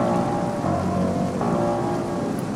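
Steady, dense rain pours over crowded city streets on a holiday night, a constant wide hiss with a low rumble underneath, loud and continuous with no voices.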